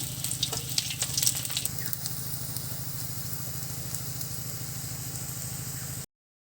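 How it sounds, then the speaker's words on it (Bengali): Mustard flower fritters frying in mustard oil in a nonstick pan give a continuous close sizzle with a pulsing low hum underneath, a few sharp crackles early on, then the sound cuts off abruptly. "ননস্টিকের কড়াইয়ের মধ্যে সামান্য সর্ষের তেল দিয়ে একটা একটা করে সর্ষের ফুলগুলো দিয়ে দেব"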